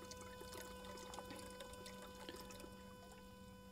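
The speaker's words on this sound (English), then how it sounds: "Now I do not have the hose turned on up all the way. That's why it's filling slowly there." Water from a hose trickles slowly into an automatic chicken waterer, a steady low pouring and dribbling sound that continues evenly throughout, with a constant background hum and no talking.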